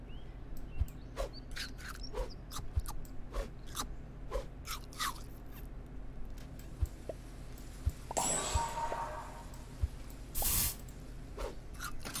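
Super Auto Pets skunk attack: a short, soft hissing spray bursts out partway through, amid faint scattered clicks and pops from the game, quiet overall.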